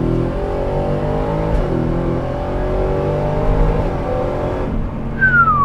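A Ford Raptor R pickup with a V8 accelerates hard in second gear in rear-wheel drive, its engine roaring loud and close in a long rising pull that cuts off near the end.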